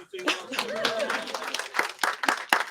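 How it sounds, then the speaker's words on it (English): Scattered clapping from a conference audience, uneven and thin, with sharp individual claps standing out and talk running over it throughout. "Round of applause."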